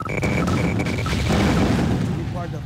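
Gunfire and booming explosions from a real-time strategy game battle, dense rumbling blasts under a steady bed of noise, with unit voice cues and beeps over the top.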